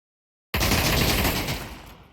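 Sudden burst of rapid automatic gunfire in the VR shooter Pavlov VR during a competitive match, loud and close after a moment of silence, then tailing off with echo.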